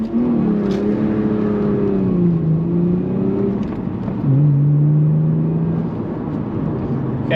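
A Lexus car pulls out and drives along a bumpy road, its engine humming and rising in pitch as it accelerates, heard close from inside the cabin with a steady road rumble.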